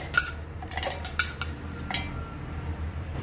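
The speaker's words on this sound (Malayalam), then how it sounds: "ആദ്യം മിക്സിയുടെ ജാറിലേക്ക് ബദാം ഇട്ട് കൊടുക്കാം." Soaked almonds drop into a steel mixer jar, making a few light metallic clinks and rattles close by, with a quiet pause between bursts.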